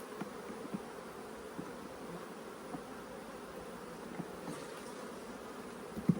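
Honeybees shaken off hive frames during a hive split hum in a steady, dense buzz of many insects, fairly faint and even throughout, with a few soft knocks.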